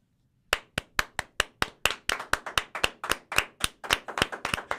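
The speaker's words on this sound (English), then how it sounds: "applause starter is Shelley Mazanova" Applause from a studio audience at the start of a live Dungeons & Dragons talk show, beginning after a brief silence as about twenty sharp, evenly spaced claps that quicken slightly, close and clear with no talking.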